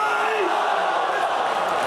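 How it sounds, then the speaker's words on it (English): An esports arena crowd roars and cheers at a CS2 Major match in Shanghai, a dense sustained wall of voices filling the hall under an excited commentator's speech. "And the crowd are loving it."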